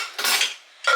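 Washed dishes and cutlery clatter close by as they are handled and put away in an open-plan kitchen, two sharp bursts of clinking and scraping separated by a short pause, with no voices.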